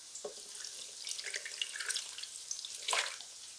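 Water runs from a tap into a container while ground tomatoes and roasted ingredients for ranchera salsa are prepared, an irregular splashing trickle with a few louder gushes, close and fairly quiet.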